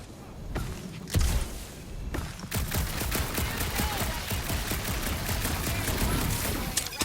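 Gunfire in a dark sci-fi video game, rapid clustered shots and thumps building into a sustained volley of repeated bursts, fairly close and continuous.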